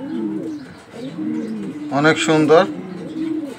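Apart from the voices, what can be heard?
Maxi racer pigeons cooing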